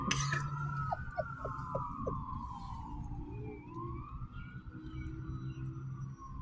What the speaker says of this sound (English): I hear the sirens. Oh no, it's a fire truck.